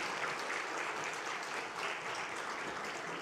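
A church congregation claps steadily and continuously, a dense, even round of applause heard at moderate level with no speech over it.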